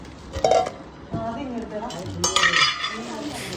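Lidded kitchen containers clink and knock together as they are handled, a few sharp close taps between stretches of talking.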